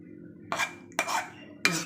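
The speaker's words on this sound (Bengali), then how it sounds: "দিয়ে এবার আমি একটু মাখিয়ে নেব, মিক্স করে নিচ্ছি মাছটা।" Fish being mixed with spices in a bowl, giving three short clattering bursts of contact against the dish, close and distinct, separated by quiet gaps.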